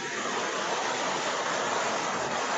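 Heavy rain pours steadily in Barbados, a dense, even hiss of falling water that holds at a constant level throughout without breaks, with no voices heard over it.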